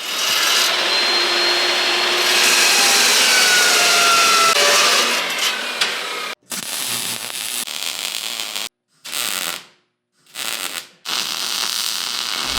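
Bare steel pieces being cut to an angle, a loud continuous grinding rasp that runs steadily for several seconds, then breaks into short bursts separated by brief silences.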